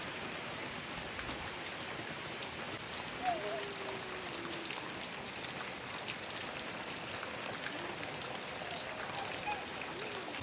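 Light, steady drizzle falling during monsoon rain in Konkan, a soft continuous hiss of fine drops with no talking.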